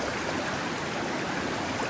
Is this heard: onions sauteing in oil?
no